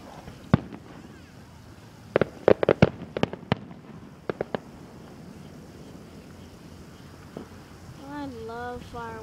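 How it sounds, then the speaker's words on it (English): Fireworks burst in a quick irregular cluster of sharp cracks and pops at a moderate distance, then fade to a quieter rumble with faint voices in the background. "I love fireworks."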